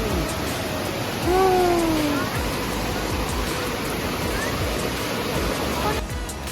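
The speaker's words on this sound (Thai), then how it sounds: "นี่เราอยู่ใต้น้ำตกน้ำไหลมาแรงมากเลยเนี่ย" The Khlong Lan waterfall in Kamphaeng Phet flows strongly, a dense, loud, continuous roar of falling water heard from underneath it, with a voice speaking briefly over the rush.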